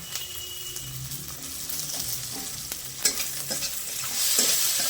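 Fifteen garlic cloves and chopped ginger fry with softened onions in a pan, crackling in a steady sizzle that grows louder near the end, with repeated scraping strokes of a stirring spoon.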